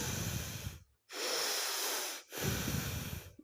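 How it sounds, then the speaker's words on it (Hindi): Forceful bhastrika pranayama breathing: three loud, rapid breath bursts, each a sharp rushing hiss through the nose separated by brief silences, close and with no talk. "जब भी हम कपालभाति में सांस लेते हैं तो सांस की छोड़ने की और लेने की आवाज़ आनी चाहिए।"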